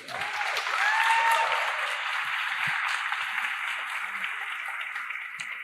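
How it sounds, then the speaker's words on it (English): Conference audience at CSS Day 2022 breaks into sustained applause for a speaker, a dense continuous clapping wash with a brief whoop near the start, steady and fairly loud throughout. "Hold applause to the end, please"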